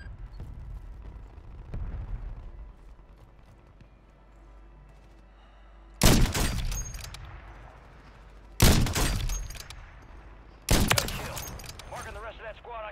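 Gunfire in the video game Call of Duty: three loud, sharp shots ring out several seconds apart, each with a decaying echo, over a quieter background of distant clatter and hoofbeat-like sounds.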